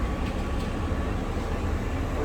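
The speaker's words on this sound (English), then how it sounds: "In the tram on the way to the airport." Steady low rumble inside a moving tram on the way to an airport, a constant rolling drone with no distinct events and no talking.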